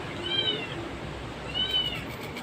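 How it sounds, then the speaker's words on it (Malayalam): A cat meows twice, about a second apart, fairly close against a low background hum. "പൂച്ച ഇവിടെയാണ്"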